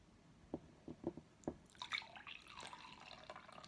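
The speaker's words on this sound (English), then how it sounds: "when I pour it out of this, there's a little space there, and that's where it drips." Coffee pours from a pot into a mug and spills from a gap at the spout, giving a few distinct close drips followed by a soft, steady trickle of liquid.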